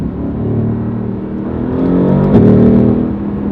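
A close, loud Mercedes-AMG GT R engine hums steadily, then briefly blips and rises in pitch as it downshifts, with no voices.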